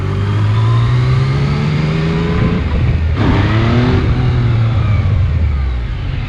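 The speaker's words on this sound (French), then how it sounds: "Donc là je vais monter dans les tours." A Yamaha MT-07 or MT-09 motorcycle engine revs hard, climbing in pitch, easing off briefly, then roaring up again, loud and close with no talking.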